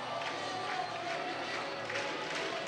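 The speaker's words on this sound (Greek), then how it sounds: "Ο κόσμος της ανόρθωσης χειροκροτεί." Anorthosis supporters in a Cypriot football stadium clap and cheer before the match against Alki, a dense, distant crowd roar with a commentator speaking over it.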